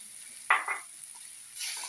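Oats tipped into softened tomatoes in a pan make a brief soft rustle, a couple of quick close scrapes, followed by a faint sizzle rising from the pan.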